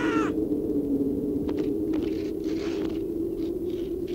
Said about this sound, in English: Thanks for chasing off those birds